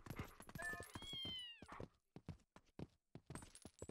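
A cat in The Legend of Zelda: Twilight Princess gives one drawn-out, rising-then-falling meow amid clattering, tapping game sounds, with faint background noise.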